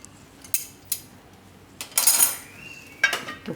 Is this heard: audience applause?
no